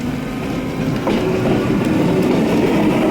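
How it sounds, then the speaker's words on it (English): Steady rumbling train noise at a train station near the Aiguille du Midi, with a low mechanical drone and faint clatter, a busy rail ambience that swells slightly after the first second. "I am now at the train station"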